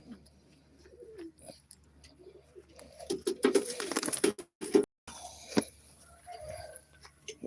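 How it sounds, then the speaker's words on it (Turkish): A pigeon sheltering under a branch in the rain coos in low, soft, rolling phrases, interrupted by a burst of rustling and loud knocking. "Kuş yağmurda dalın altına girmiş."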